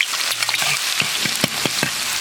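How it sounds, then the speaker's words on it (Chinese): Minced garlic frying in hot oil in a wok, a steady broadband sizzle broken by sharp crackles and pops spaced through the clip, close and fairly loud with no voices. "锅里倒油，把蒜末往下炸一下"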